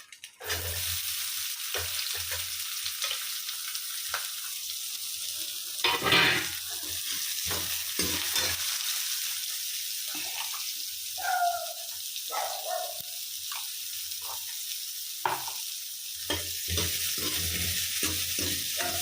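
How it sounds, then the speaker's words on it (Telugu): Food frying and being stirred in a pan, sizzling crackle punctuated by scraping stirs and clinks, close and moderately loud, with a few brief quieter gaps. "మరి మాడిపోయినట్టుగా కాకుండా కొంచెం బాగానే ఫ్రై చేయండి."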